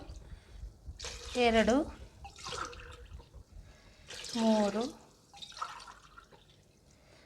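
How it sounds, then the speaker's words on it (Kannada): Water being poured into a pot of chicken biryani base with coconut milk, a splashing pour heard under a woman counting aloud, her voice rising in short bursts over the liquid noise. "ಇವಾಗ ನೀರು ಹಾಕ್ಕೋಬೇಕು."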